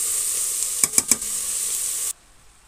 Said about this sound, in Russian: Капусточку тоже нашу жарим.